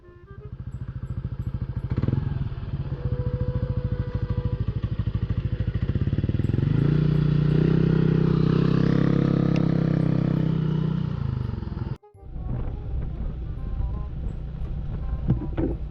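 A motorcycle being ridden on a road trip in Ratchaburi province, Thailand: a close, continuous engine drone that swells in the middle and briefly cuts out before picking up again, with wind and clatter and no talk.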